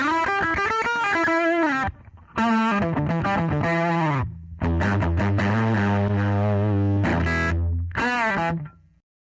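Electric guitar through a Fender Jack White Pano Verb amp with drive about halfway, gritty overdriven riffs and bent notes in bursts separated by short gaps, loud and up front, ending on a sharp chord.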